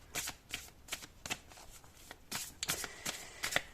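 Oracle cards are shuffled by hand in quick, crisp riffling bursts, about a dozen close, soft flutters with brief pauses between them and no talking.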